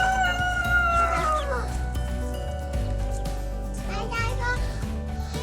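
Chickens cluck and a rooster crows nearby amid a busy flock, with a voice and other talk mixed in.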